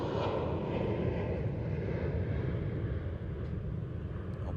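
Embraer KC-390 military transport aircraft engines at the 2018 Farnborough Airshow, a broad, continuous roar heard from a distance, steady and rumbling throughout with no voices.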